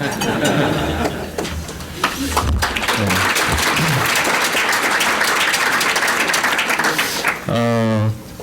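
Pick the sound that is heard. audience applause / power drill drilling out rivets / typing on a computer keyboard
audience applause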